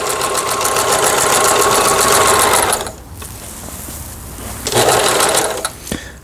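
A Toyota Grace 500 sewing machine, long unused, runs slowly through a quilting stitch, a loud close whirring chatter that stops briefly, then starts again in a short second burst.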